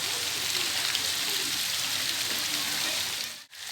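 Steady, dense rain pours down without a break, a close and even hiss that holds until a brief dip near the end.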